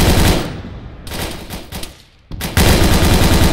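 Heavy automatic gunfire in ARMA 3, dense rattling bursts that fade, drop to a brief lull, then resume loud and close.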